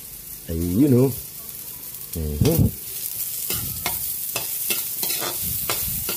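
Onion stir-fried in a pan with garlic sizzles and scrapes under a spatula, with a few sharp metallic taps after two brief bursts of talk at the start.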